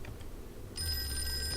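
Old telephone ringing in the Call of Cthulhu horror game: a faint quiet bed, then a bright, steady bell ring starts sharply and carries on to the end, with no talk.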